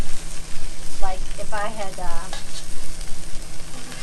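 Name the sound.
food frying outside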